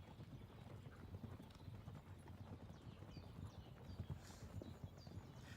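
Horse hooves clip-clop steadily on the ground in Kingdom Come: Deliverance II, a continuous rhythmic trotting that stays close and moderately loud throughout, with no talk over it.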